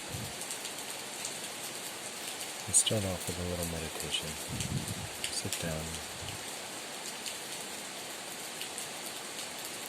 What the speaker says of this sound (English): looking at the rain falling on the tree